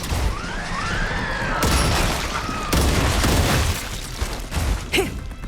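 Sci-fi gunfire in the game StarRupture, a dense mix of loud blasts and crashes over continuous noisy game sound, with sweeping tones and a sharp burst near the end.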